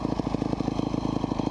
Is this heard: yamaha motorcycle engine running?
yes